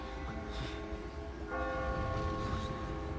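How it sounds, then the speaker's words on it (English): A bell rings in the video game Catherine, with sustained metallic tones that swell and overlap in a soft, reverberant wash over a low background rumble. "Probably hear the bell on the camera."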